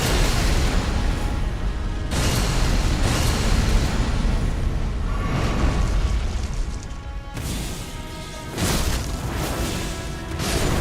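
A boss's triple explosion in the Elden Ring video game, a sustained roaring, booming blast that keeps rumbling loudly throughout, with a few sharper bursts surging on top.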